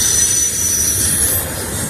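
Eastbound freight train rolling along railroad tracks, a loud continuous roar of wheels with a high, sustained metallic squeal running over it, steady throughout and close by.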